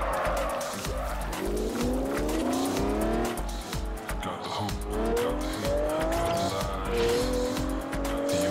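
Engine of a car in the racing game Forza Horizon, revving through rising gear pulls with repeated tire squeal and skidding, loud and continuous across the clip.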